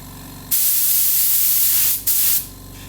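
Protective underbody coating sprayed beneath a van, one loud continuous hiss of about one and a half seconds, a brief break, then a shorter burst, close and alone.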